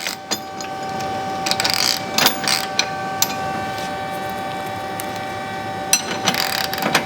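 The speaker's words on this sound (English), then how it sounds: "To tighten this up, you're going to use a 22mm wrench and socket." A ratchet wrench with a 22mm socket tightening a toe link bolt on a Mustang's rear suspension, giving close, uneven bursts of quick clicking between short pauses, with no talk.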